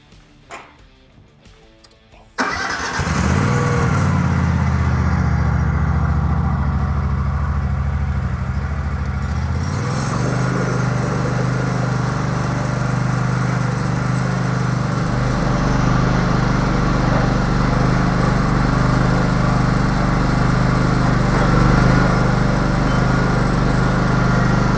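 A BOSS V-XT snowplow machine with a 4'2" V-plow starts up after a short clatter, then its small engine runs steadily and loudly close by, settling into a constant drone with a slight drop in pitch partway through.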